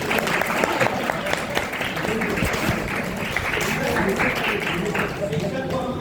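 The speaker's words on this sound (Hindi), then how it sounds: "तो एक ताली आप अपने लिए भी बजा सकते हैं।" Students at a golden jubilee celebration of a Nagari script council applaud in a hall, dense sustained clapping from a crowd that keeps going for several seconds, with some voices mixed in.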